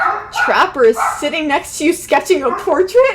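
Dogs bark and yip in short bursts in the background while a person keeps talking over them.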